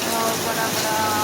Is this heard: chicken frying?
no